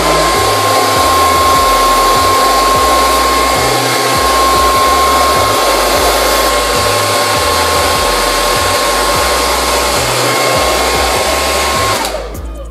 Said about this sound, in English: then you're gonna come back with your dryer again